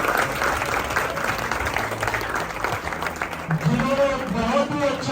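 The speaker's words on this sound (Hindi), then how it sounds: "एक बार बच्चे जोरदार तालियां इन बच्चों के लिए" An audience applauds students at a start-up seminar at a college in Jalandhar, steady clapping that fills the room while a voice speaks over it toward the end.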